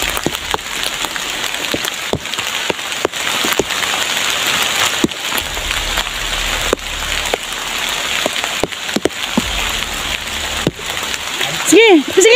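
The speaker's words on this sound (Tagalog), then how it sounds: "umuulan na, malakas ng ulan ba?" Heavy rain pours down steadily outdoors, a dense continuous hiss and patter with scattered sharp drops striking nearby, loud throughout, with a brief vocal sound near the end.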